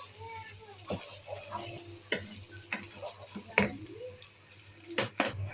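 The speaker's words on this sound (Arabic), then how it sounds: "ادينا الرز تشويحه اهي مع البصل" Plain Egyptian rice, about a kilo, stirred with golden fried onions in a pan, with a soft steady sizzle and a few scattered spoon clinks and scrapes against the pan.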